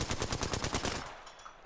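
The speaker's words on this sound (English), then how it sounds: "Is that you shooting?" A rapid burst of automatic gunfire from an Apex Legends match rattles for about a second and then cuts off, with no speech over it.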